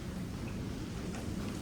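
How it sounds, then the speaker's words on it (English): Steady rain falls outdoors beside a 2012 Buick Regal GS under front grille repair, a continuous soft wash of drops with low rumbling body, evenly sustained throughout with no voices. "It started to rain"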